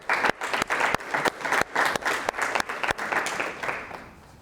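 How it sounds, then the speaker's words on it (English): An audience claps steadily for several seconds, a dense crowd of hands that fades out toward the end. "let's thank Clifton with a round of applause, okay?"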